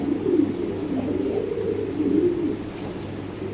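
Pigeons coo steadily at a large pigeon farm, a low continuous murmur of overlapping birds with rolling, throaty calls rising and falling throughout.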